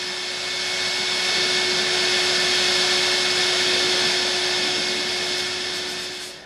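A vacuum cleaner sucks dust and ash from a biomass boiler during its annual cleaning, a loud, constant high-pitched whine with a steady tone that runs unbroken throughout.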